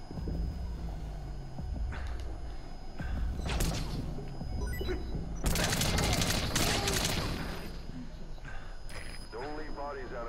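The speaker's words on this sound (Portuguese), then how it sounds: "Quem tá atirando em mim?" Rapid bursts of gunfire in the video game Metal Gear Solid V crackle in volleys around the player, loudest near the middle, with someone talking over parts of the shooting.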